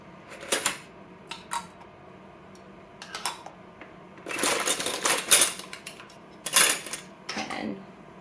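New metal canning jar lids from a fresh pack are handled and set down, giving scattered light clinks and clatters in bursts, louder toward the end, with no talking.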